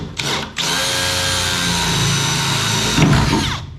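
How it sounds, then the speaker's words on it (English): A drill with a 1/4 inch bit chews through spot welds on a VW Beetle heater channel, a loud close steady whine with a brief start-stop at the beginning and a rougher grinding burst near the end. "I'm gonna just sit here and go through and drill every single one of these out."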